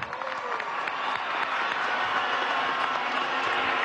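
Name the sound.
applause at a PSUV political rally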